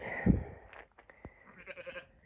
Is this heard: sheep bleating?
yes